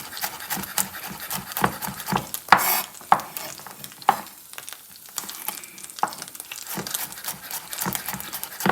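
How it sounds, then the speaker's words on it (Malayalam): Sliced ginger and garlic sizzle and crackle in hot oil, with close stirring scrapes and sharp spatula clinks over a steady frying hiss. "നമ്മൾ ആ നീളത്തിൽ അരിഞ്ഞ ഇഞ്ചിയും വെളുത്തുള്ളി ഈ ഓയിലിലേക്ക് ഇട്ട് കൊടുക്കും."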